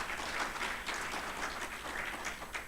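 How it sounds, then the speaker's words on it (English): Audience applause at a leadership programme closing ceremony, a steady, fairly soft round of many hands clapping that continues throughout without a voice over it. "A round of applause for Zukiswa."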